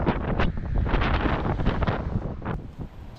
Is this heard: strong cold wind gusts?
yes